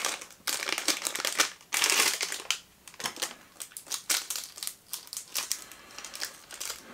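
Plastic packaging around a Tsum Tsum Squishy toy of Lightning McQueen from Cars crinkles and crunches as it is torn open, close and busy, in repeated bursts with brief pauses and no talking.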